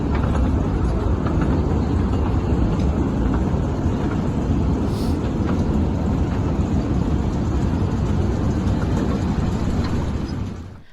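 A toy train ride near Ooty Lake at an amusement park gives a continuous close rumble of wheels and motor with wind noise, steady throughout before fading at the end.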